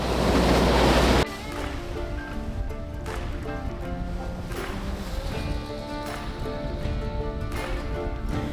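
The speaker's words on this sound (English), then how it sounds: "It's just a swell that we're going straight into." Sea swell and waves wash steadily against a sailing boat heading straight into the swell, a broad continuous rushing with wind noise, loud at first and then settling into a steady churn.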